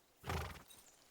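Horse in the video game Kingdom Come: Deliverance 2, a short snort or whinny bursting out loud near the start, then fading over quieter game ambience.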